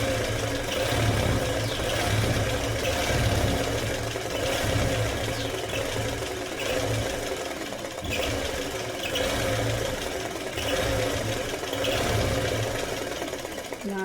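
A Pico embroidery machine stitches cotton cloth with a steady, continuous mechanical whirr and rapid needle rhythm that runs throughout, close and fairly loud with no one talking.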